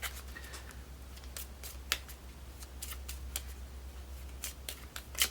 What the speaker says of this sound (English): and then I have to shuffle my deck.